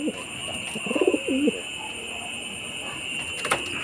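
Breeder pigeons coo in a short, low, warbling phrase, close by and clear, over steady background hum and a faint high whine, followed by quieter ambient noise.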